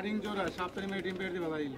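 Pigeons coo close by at a pigeon market in Bangladesh in low, rolling calls, blending with the murmur of nearby voices.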